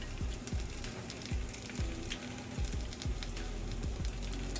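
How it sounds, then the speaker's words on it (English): Pork neck bones fry quietly in a pan for stewing, giving a soft, continuous crackle broken by low, evenly spaced thumps. "We're going to fry these up a little bit, saute them a little"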